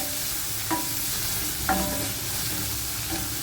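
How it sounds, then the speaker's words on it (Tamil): Onions and curry leaves sauté in a pan for a potato stir fry, a soft continuous sizzle broken by a few distinct scraping stirs, moderately quiet and close with no voices. "நல்லா வதங்கட்டும் வெங்காயம்"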